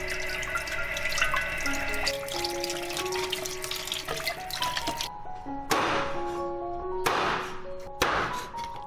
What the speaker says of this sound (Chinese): 鸡肉我们先清洗干净。